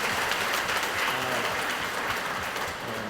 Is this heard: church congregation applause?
yes